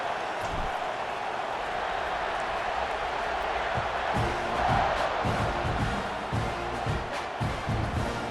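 A large stadium crowd in the video game EA Sports College Football 26 roars continuously, a broad wash of cheering and shouting with occasional thumping beats underneath, loud and steady.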